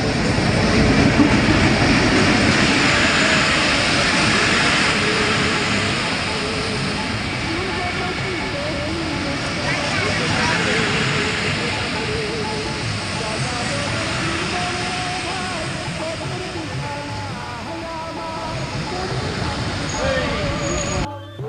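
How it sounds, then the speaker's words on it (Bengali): A train pulls into Srinagar railway station in Munshiganj, Bikrampur, with a steady broadband rumble of rolling cars and faint clatter, loud and sustained throughout, while voices can be heard under the noise. "সেই ট্রেন আসলো পনেরো এগারোটায়"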